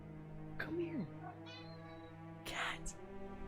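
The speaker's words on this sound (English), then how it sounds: "Cat." A cat meows close by, a short rising-falling cry followed by a second louder meow, with people talking over it.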